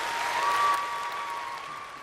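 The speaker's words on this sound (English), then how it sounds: "That's the most applause I've gotten in quite some time" Applause from a live audience greeting a guest at an interview, a short, even burst of clapping that holds steady and tapers slightly over two seconds, with a faint tone underneath.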